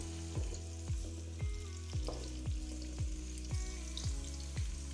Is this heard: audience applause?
no